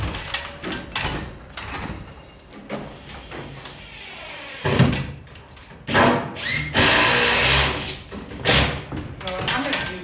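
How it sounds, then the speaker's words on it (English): A power drill driving screws into a wood subfloor beam during house framing, in several loud whirring bursts with pauses between, while people talk nearby. "I'm gonna put a screw up the bottom"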